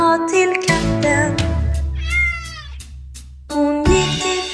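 A cat in a Swedish children's song meows loudly several times in a row, clear close meows alternating with musical backing.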